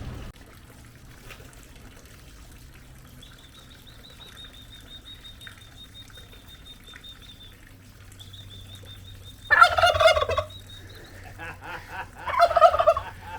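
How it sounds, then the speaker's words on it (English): A turkey on a small property in Brazil's Atlantic Forest lets out two loud, rattling gobbles near the end, after a long quiet stretch with a thin whistling tone and low background hum. "He's also got a turkey here and a couple other birds"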